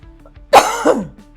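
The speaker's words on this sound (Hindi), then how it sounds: "खांसी की दवाई ले मेरे 3-4 दिन हो खांसी उठ रही" A single sharp cough, loud and close, followed by a short raspy tail, with quiet background before and after.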